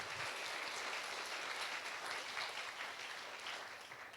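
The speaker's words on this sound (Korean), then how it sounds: "저희 큰 박수로 맞이해 주세요." A church youth congregation welcomes a newcomer during a worship service with applause, a steady wash of many hands clapping at a distance that eases slightly toward the end.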